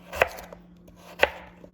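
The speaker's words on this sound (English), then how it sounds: "Then we're gonna cut it in slices." A knife cuts through a halved potato laid flat side down on a board, making two crisp, close chopping thuds about a second apart, with quiet in between and no talking.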